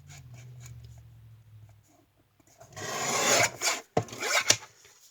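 Scissors or a blade cut through a Christmas card in short rasping strokes, close and fairly loud, after a quiet start with a faint low hum.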